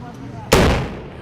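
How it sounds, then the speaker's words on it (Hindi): Controlled detonation of an IED found on a highway bridge in Nowgam, Srinagar, a single sharp, loud blast that booms and then decays over a fraction of a second. "दरअसल ये कितना जोरदार धमाका था।"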